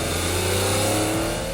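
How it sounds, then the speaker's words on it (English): The 627-horsepower BMW V12 of a McLaren F1 accelerating hard, heard from inside the car as a loud, continuous engine roar with rising pitch. "BMW engine is doing the business behind me, and my goodness, it really does do the business"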